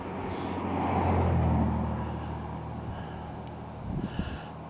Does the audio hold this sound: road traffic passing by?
yes